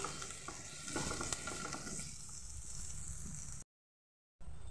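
Spices, grated ginger and curry leaves fry in a pan with a soft, steady sizzle and occasional stirring clatter, fading lower before a brief cut of silence.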